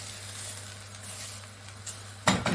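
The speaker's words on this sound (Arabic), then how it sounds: "أقلب شوي. البصل والجزر تخلط مع الرز." Onion and carrot fry together with rice in a pan, a steady soft sizzle with faint stirring, ending in a louder scrape or clatter.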